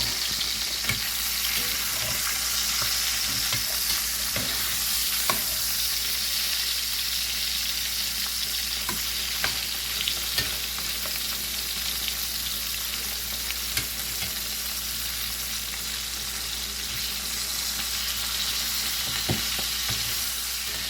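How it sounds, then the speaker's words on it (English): Sausage sizzles steadily in a frying pan for red beans and rice, a constant close crackling hiss broken by occasional pops and light stirring clicks, with no talking. "if you enjoy the sound of sizzle"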